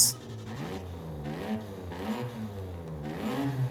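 A Nissan Skyline wagon's RB25 engine in the video game Forza Horizon 5 revs up and down repeatedly, a steady mid-pitched drone rising and falling in pitch, with no talking over it.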